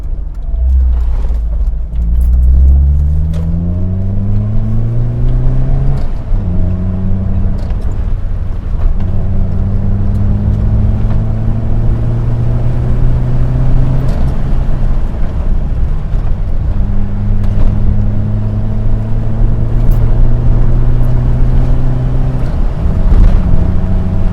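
A Metro car with a Maniflow exhaust burbles steadily at cruising pace, its low engine drone rising and falling through repeated gear changes and revs, with wind rumble throughout.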